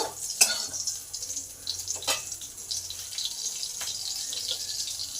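Whole cumin, black cumin and a broken green chili fry in hot oil, giving a steady soft sizzle with a few clicks of stirring, close and continuous with no voices.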